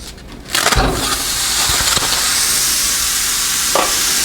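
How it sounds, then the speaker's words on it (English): Ground hamburger hits a skillet preheated several minutes on medium-high heat, starting with a loud burst of frying and then settling into a steady, close, crackling sizzle with a few faint clinks of a utensil. "Notice the sizzle"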